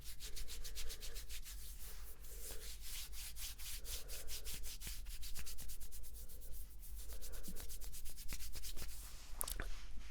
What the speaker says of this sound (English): Now let's rub this side.